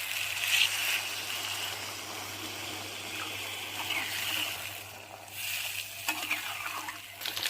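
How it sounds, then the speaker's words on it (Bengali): Water poured into a pan of frying ground spice paste with cumin and chili powder for a thin fish curry, a soft steady gush over faint sizzling, fairly quiet and continuous. "এবার জল ঢেলে নেবো তরকারিতে।"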